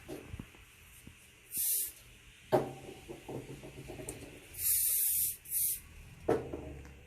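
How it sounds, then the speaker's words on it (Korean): Hairspray and shine spray hiss in several short bursts of one to two seconds onto a styled updo, close and fairly loud, with quiet handling noises between the sprays. "샤이닝 한번 뿌리면서 일반 스프레이 뿌려준 이유가 윤기나 보이도록, 그 다음에 다림질이 잘 되어 보이도록."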